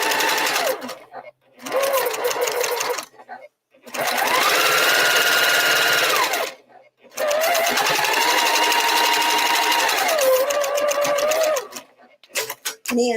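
A sewing machine stitches a quilt top in three long runs, each rising to a steady whir and cutting off, with short pauses between.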